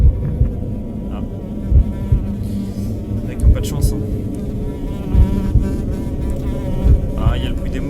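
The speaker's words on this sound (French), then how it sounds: "il y a le bruit des mouches. Quand je me rapproche du cadavre." Flies buzz steadily around a corpse in the horror video game Dungeon Nightmares, a close droning hum with louder swells and thuds, while someone speaks briefly in French.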